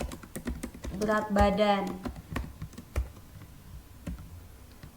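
Variable names are typed into SPSS on a computer keyboard: scattered, close keystroke clicks around a short stretch of speech.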